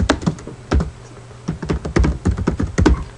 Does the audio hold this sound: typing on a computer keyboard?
yes